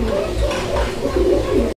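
Fancy pigeons coo in a close, continuous low throaty murmur, several birds overlapping with soft rolling calls, briefly cut off at the end.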